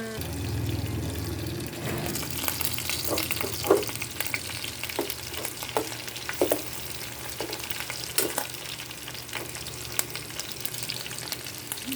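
Onion and garlic fry in oil in a pan for pork adobo, giving a continuous crackling sizzle scattered with sharp pops and stirring clatters, close and steady for the whole stretch without talk.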